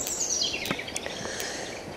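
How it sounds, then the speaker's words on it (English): Birds chirp and call in short bright bursts over a steady outdoor hiss in a spring woodland at Cheddar Gorge, several calls scattered through the clip at moderate distance. "hear the birds singing"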